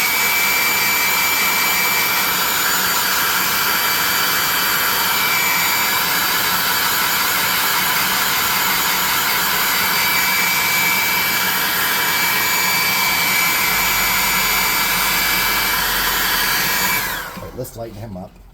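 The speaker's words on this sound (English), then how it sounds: "let's hit him with a hair dryer" A hair dryer blows steadily at close range while paint dries on a miniature pack mule figure, a loud continuous whooshing whine that runs unbroken for many seconds before cutting off at the end.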